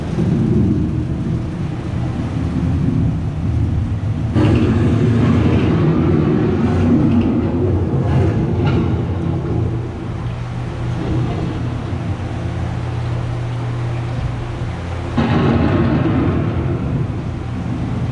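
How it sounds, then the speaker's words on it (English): An approaching thunderstorm delivers long, heavy rolls of low thunder rumbling loud and sustained, with a fresh surge partway through and a hiss of wind or rain above; no voices. "The approaching storm may seem violent and destructive to us, but to nature, it's a new beginning in the cycle of life."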